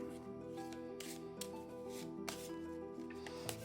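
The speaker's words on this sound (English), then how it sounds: "we'll shuffle them again" A deck of board game cards is shuffled, giving soft repeated riffling and rubbing bursts over a steady tonal background hum, with no talk.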